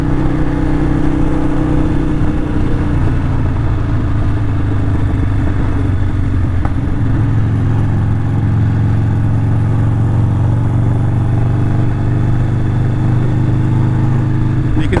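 A Harley motorcycle with a Screamin' Eagle stage 1 setup runs steadily under load in gear, its loud, continuous engine drone shifting pitch as it moves through the rev range, close and uninterrupted.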